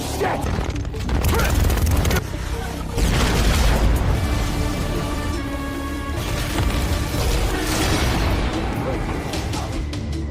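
Bazooka rounds fired at Harkonnen helicopters in a battle scene from a sci-fi film, with loud booming explosions and dense rumbling blasts layered over a busy soundtrack for most of the stretch.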